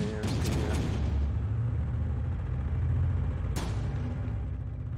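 An explosion strikes a tank in the World War II strategy game Close Combat: a dense, rumbling blast roars through the opening, with low battle noise throughout and another sharp burst a few seconds later.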